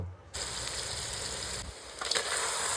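Meat goes into hot mustard oil with cumin, bay leaf, dried chilli, whole garlic, chopped ginger and onion, and a bright, steady sizzle bursts up and keeps hissing close by, with a faint scrape of a utensil near the end.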